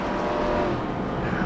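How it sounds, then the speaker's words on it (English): Stock-style race cars lapping North Wilkesboro Speedway in a racing video game, a loud, continuous engine roar from several cars blending together, with no talk. "let you listen to these gorgeous cars as they work their way around North Wilkesboro"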